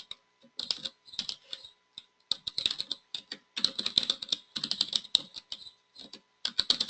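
Rapid, irregular bursts of keystrokes on a computer keyboard, entering details into hiring software, close and clear with short pauses between runs and no talking.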